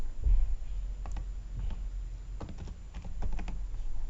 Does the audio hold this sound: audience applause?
no